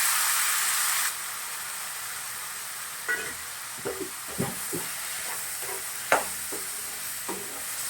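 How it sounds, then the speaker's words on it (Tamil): Tomatoes sautéing with browned onions in a pan for a prawn thokku, a steady soft hiss and sizzle with a handful of light clicks of a spoon stirring. "தக்காளி ஒரு 2 நிமிஷம் வதக்கியாச்சு"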